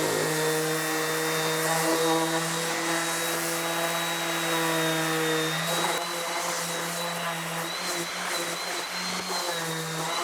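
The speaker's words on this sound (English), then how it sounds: "Now I'll do a final finish sanding where I'll sand the putty off" A power sander runs steadily, taking putty off a wooden hat holder during final finish sanding, giving a continuous buzzing whine with a slight change partway through, fairly close and unbroken.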